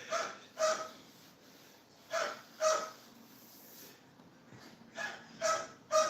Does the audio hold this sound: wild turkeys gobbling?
no